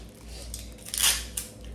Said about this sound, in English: So just tape it right up under the bottom.